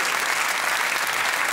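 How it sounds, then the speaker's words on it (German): A television studio audience at a comedy talk show breaks into dense, continuous applause after an a cappella contest, loud and steady throughout with no voices on top. "Riesen Applaus"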